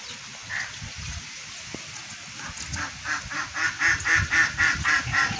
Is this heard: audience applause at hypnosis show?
no